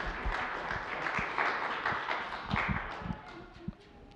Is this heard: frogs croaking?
no